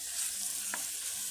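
Chicken pieces with garlic browning in hot oil in a pan, giving a soft steady sizzle with one brief stir or clink partway through.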